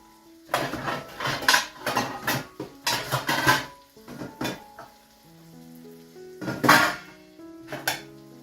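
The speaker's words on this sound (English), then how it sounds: "gonna put a lid on the pot for just a bit, just to make sure the shrimps warm through quickly" A lid is set onto a cooking pot of shrimp during a home dinner of stir-fried vegetables and spaghetti, giving a few bright metallic clatters over steady frying sizzle, close and fairly loud.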